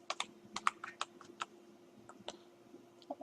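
Typing on a computer keyboard during a Python coding lesson, with quiet, irregular clicking keystrokes in short bursts and scattered single taps, alone without speech.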